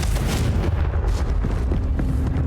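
A Confringo fire-blast spell in Hogwarts Legacy erupts as a loud, dense, rumbling burst that fills the whole stretch, heavy and close without clear separate hits.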